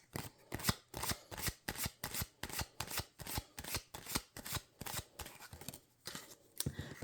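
A tarot deck being shuffled by hand, heard as a steady run of about a dozen crisp riffling bursts in a regular rhythm, close and clear, with no voices.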